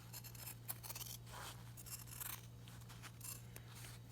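Scissors trimming excess fabric and zipper ends from a machine-embroidered in-the-hoop zipper bag, giving a run of soft crisp snips and rustling cuts, close and quiet over a steady low hum.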